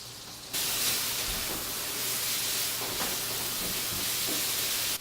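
Leeks cooking in melted butter in a pan, a steady close hiss and sizzle that sets in abruptly and holds evenly, no talk.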